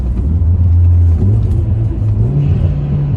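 A Mitsubishi Evo X or Volkswagen Golf R engine rumbles loudly, its pitch rising and falling as it revs on a downshift, heard close up from inside the car.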